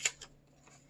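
Scissors snip through colored origami paper in a quiet room, one sharp close cut followed by a softer second snip and faint trailing rustles.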